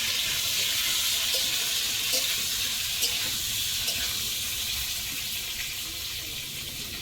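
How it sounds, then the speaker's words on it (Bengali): Potatoes fry in hot oil with a steady, bright hiss that holds evenly throughout, with a few faint pops and clinks rising above the constant sizzle, heard close by and without speech. "এখন আলুটাকে আস্তে আস্তে দিয়ে দেবো, দিয়ে আলুটাকে ভাজবো"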